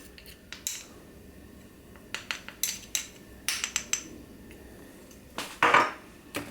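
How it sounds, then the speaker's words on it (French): Cookie dough with acacia honey worked in a bowl for chocolate chip cookies, heard as scattered, close scraping and clinking of utensil against bowl in irregular bursts, with one stronger scrape near the end and no talking. "Je mélange comme il faut"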